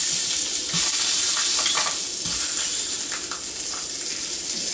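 Sausage sizzling in a hot pan, a dense, close, continuous crackle and hiss with small popping bursts throughout, no voices over it.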